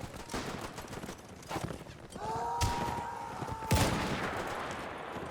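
Machine gun fire in the Warband Between Empires World War One mod, rapid sharp shots in bursts with a couple of louder cracks, among hoofbeats and battlefield clatter.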